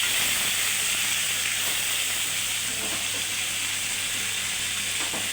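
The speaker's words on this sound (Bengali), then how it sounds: "এগুলো ফ্রাই হোক, স্টিমটাকে বাড়িয়ে দিই" Fish pieces fry in hot oil in a pan for a fish curry, making a loud, continuous sizzling hiss close up with no talking.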